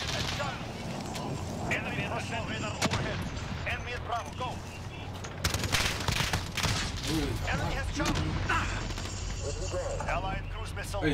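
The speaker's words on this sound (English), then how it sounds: "Enemy precision airstrike." Dense, continuous battlefield din of an enemy precision airstrike in Call of Duty: Modern Warfare team deathmatch, with rolling gunfire bursts and booming impacts layered under game voice callouts throughout.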